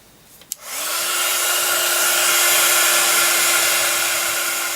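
A hair dryer switches on with a click and then blows a steady, loud whir with a sustained hum while drying paint on a handmade fairy house.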